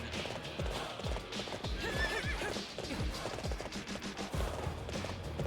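Rapid hoofbeats clip-clop in a steady gallop while a horse neighs loudly partway through, with a synthetic game-like quality, from the horse in Hyrule Warriors: Definitive Edition.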